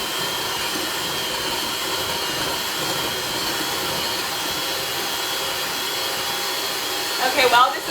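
An electric mixer creams cookie dough made with oat flour, a steady loud motor whir that holds evenly all the way through, with a brief clatter near the end.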